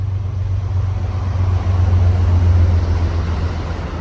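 A deep, steady low rumble of an Amtrak train passing through woods, heard from a trail at a distance, swelling slightly midway then easing, with no voices over it.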